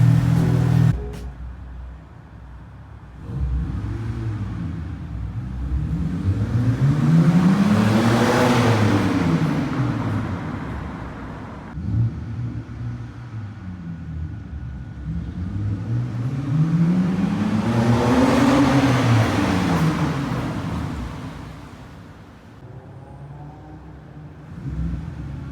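A BMW E92 with an N52 engine and a muffler delete passes by twice, its exhaust rising to a loud, raspy roar as it approaches and falling away as it recedes.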